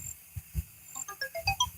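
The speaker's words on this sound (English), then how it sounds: "I'm going to turn my ring volume down." A phone ringtone plays a quick series of bright electronic tones in a rising and falling melody, close and clear over low thumps, outdoors while fishing at a harbor.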